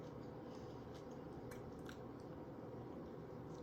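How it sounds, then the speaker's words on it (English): Soft, close crunching and chewing of a fresh cucumber tomato salad, faint, irregular bites and squishes over a quiet background, no talking. "you can hear me crunching"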